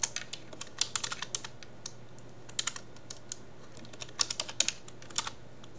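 Keys on a computer keyboard clack in uneven bursts of quick taps, close and clear against a quiet room with a low background hum.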